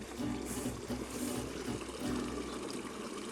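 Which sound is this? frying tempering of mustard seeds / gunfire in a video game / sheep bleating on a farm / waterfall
waterfall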